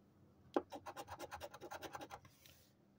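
A coin scrapes across a lottery scratch-off ticket in a quick burst of about a dozen rhythmic, close strokes lasting under two seconds, alone and fairly quiet.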